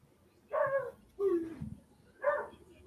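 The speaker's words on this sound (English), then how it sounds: "Dogs are barking." Dogs bark three times in short separate bursts, moderately loud, over a quiet background during a live stream.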